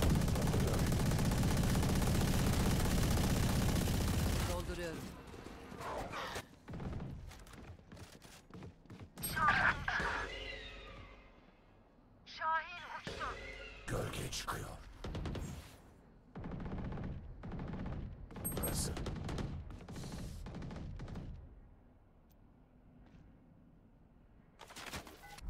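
Gunfire in the tactical shooter Valorant: a loud sustained burst of automatic fire, then scattered shots and short bursts with gaps, and a few sharp metallic pings.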